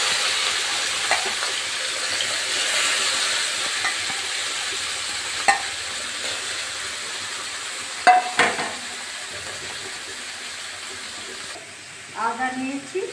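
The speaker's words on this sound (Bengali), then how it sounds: "তেল গরম হয়ে গেছে। এবারে মাছগুলো" Murala fish fry in hot oil with a steady, bright sizzle throughout, broken by a few clinks and stirring clatters, with brief voice sounds near the end.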